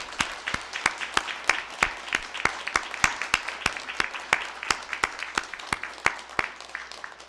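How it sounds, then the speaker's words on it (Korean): A church congregation claps in unison to encourage a mother and son during a worship service, a steady rhythmic beat of sharp, evenly spaced claps repeating about three times per second throughout. "우리 모자분들 힘내시라고 박수하겠습니다"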